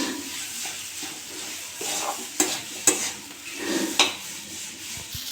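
Boiled potato and paneer fry in a pan for paneer ghotala, a steady sizzle broken by scraping stirs and a few clinks of the spoon against the pan, close and without talk.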